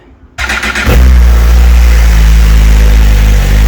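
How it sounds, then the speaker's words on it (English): A Suzuki GSX-R 1000 motorcycle with its stock muffler cold-starts: a brief starter whir, then the engine catches and settles into a loud, steady, close-up idle rumble. "cold start."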